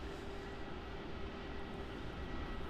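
A plane arriving on runway 16 at Melbourne Airport in Australia gives a steady, loud engine roar with a low sustained drone and broadband rush, heard throughout with no break.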